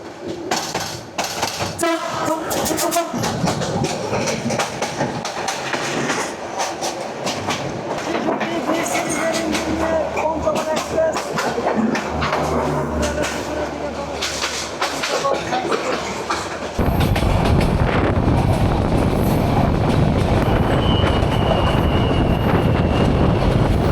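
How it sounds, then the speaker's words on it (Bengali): A broad gauge train on the Dhaka to Chattogram line roars past nearby, with loud rumbling, rattling wheels and a brief horn, then a steady wind-like rush as carriages go by. "সামনে আবার আরেকটা ব্রড গ্যাস ট্রেন আসতেছে"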